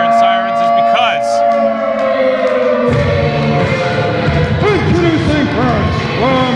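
A wailing emergency siren rises and falls, loud and sustained, inside a rec center during a pro wrestling event, with overlapping siren tones and crowd noise underneath.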